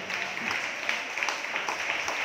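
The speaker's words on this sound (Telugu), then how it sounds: "ఏదోసారి గట్టిగా చప్పట్లు కొట్టి ప్రభుకి స్తోత్రం చెప్పండి" A worship congregation claps at a Sunday service, a quieter, somewhat distant wash of applause with scattered sharper claps standing out.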